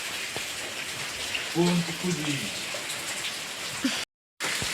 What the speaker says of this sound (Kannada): ನೋಡಿ ಮಳೆ ನೋಡಿ, ಜೋರಿಲ್ಲಿ ಜೋರು ಮಳೆ